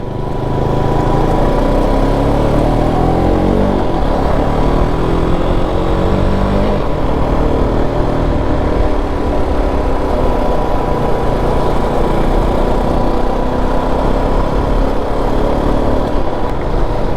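A KTM RC 390 motorcycle rides along a foggy road on the way from Delhi to Mussoorie in mid-December, its engine a loud, continuous drone that rises and falls gently while cruising up close.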